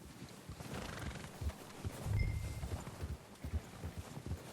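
Horse hooves clip-clop at a camp while horses approach. The hoofbeats are soft and irregular against a low rumble, with a brief whinny-like sound near the middle.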